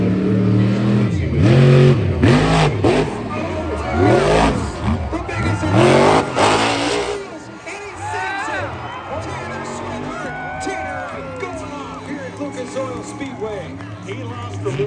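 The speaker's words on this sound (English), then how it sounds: "Going to put the truck up in the air and try to give him a good bounce to go for a slap wheelie there." A freestyle monster truck roars and revs hard at an outdoor show as it launches for a jump, engine loud and surging, then easing off while an announcer talks and the crowd murmurs.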